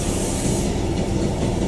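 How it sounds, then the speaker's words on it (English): Silicon carbide grit of 60 grade blasts against a cast iron skillet, making a loud, dense, continuous roaring hiss with a rough, gritty texture throughout the short burst. "Sandblast the cast iron skillet to make the surface even and smooth."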